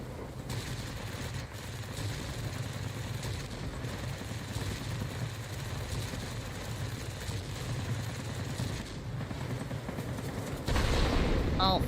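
Bombs explode in a video game among continuous booming gunfire and rumbling battle noise, dense and loud throughout, with a heavier blast near the end.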